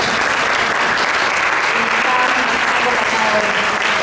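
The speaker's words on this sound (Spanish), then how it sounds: "un aplauso para todos los" Sustained, loud applause from an audience at a World Theatre Day 2024 event fills the whole stretch at a steady, dense level, with a crowd clapping together close by and no pauses.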